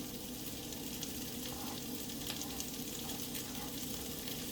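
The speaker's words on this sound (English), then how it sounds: "Okay, so I'm sauteing this kale." Kale with garlic and peppers sautéing in a pan gives a steady, dense sizzle, close and continuous, with faint stirring touches and no voices.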